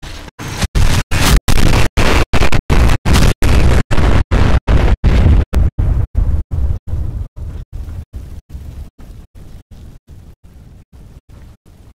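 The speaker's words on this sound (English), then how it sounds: "He must be hearing explosions." Rapid booming explosions in a video game, loud repeated blasts in a steady chopped rhythm, slowly fading toward the end, with no talk over them.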